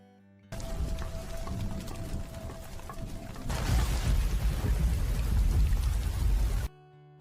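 Heavy night rain falls in a scene from the 2022 kung fu film Defiant. A steady, dense hiss of downpour grows louder and fuller partway through, then cuts off abruptly.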